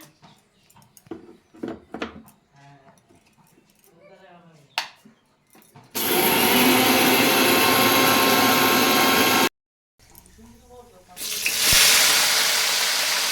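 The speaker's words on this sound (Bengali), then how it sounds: "এরপরে ভাজা মশলাটা গুঁড়ি নেওয়া হচ্ছে।" An electric spice grinder whirs loudly and steadily as it powders dry-roasted red chillies, coriander, pepper and cumin, running in two long bursts with a brief stop between, after a stretch of people talking quietly.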